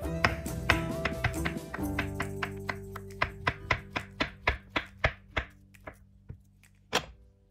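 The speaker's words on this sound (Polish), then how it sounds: "Kroimy banana." Knife slicing a banana on a board, a run of about a dozen crisp, evenly spaced taps that slow and fade toward the end, close and clear, no talking.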